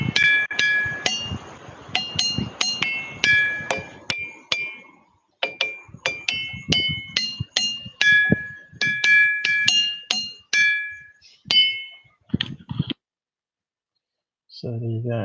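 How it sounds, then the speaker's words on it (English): Natural rock formations at Ringing Rocks in Australia are struck in quick succession, each hit giving a sharp, bell-like metallic ring that sustains briefly, played as a series of tones with short pauses, close and clear. "Ringing Rocks, Australia."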